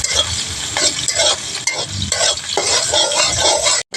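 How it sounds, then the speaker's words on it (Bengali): Chopped garlic fries in a pan as a spatula stirs it, giving loud repeated scraping strokes over a continuous sizzle, ahead of winter vegetables and dried fish going in. "রসুনগুলো ভাজা হয়ে গেছে"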